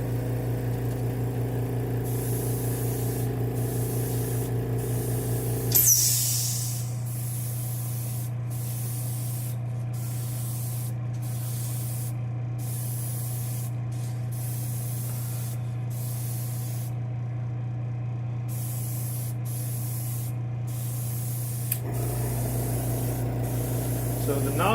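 Black Widow airbrush with a fan nozzle spraying paint, a long steady hiss close by over a low constant hum, starting and stopping abruptly, with sporadic brief interruptions.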